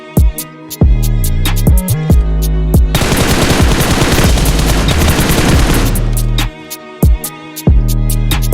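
PUBG Mobile gunfire, rapid rhythmic bursts of loud close automatic shots with a dense sustained volley in the middle, then separate spaced shots again.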